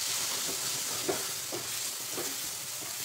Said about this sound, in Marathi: तर ह्याला घट्ट होईपर्यंत आपल्याला परतून घ्यायचं आहे.